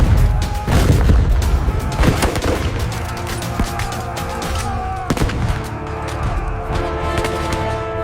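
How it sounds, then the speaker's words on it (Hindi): Cannon and gunfire effects from an Anglo-Nepalese war scene: booming blasts and crackling shots layered in a dense, loud, continuous barrage with rumbling low thuds. "तुम तोप को स्टार्ट कर दो।"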